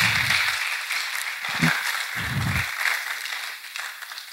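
An audience at a diploma and merit-certificate ceremony for a club applauds a recipient with a steady wash of clapping, moderately loud and sustained throughout.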